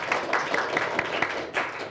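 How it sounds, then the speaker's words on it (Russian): An audience applauds at a Russian political debate tournament, with steady, dense clapping that fills the room from start to finish at an even level. "Аплодисменты."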